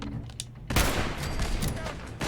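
A turret in Fallout 4 opens up with a sudden, dense burst of sustained gunfire that holds steady for over a second, loud and close, after a quieter stretch of ambient game sound.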